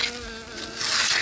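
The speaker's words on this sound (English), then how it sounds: "Many bees are buzzing around" Bees buzz around flowers in a garden pumpkin patch in the early morning, a close, continuous insect drone that swells slightly near the end.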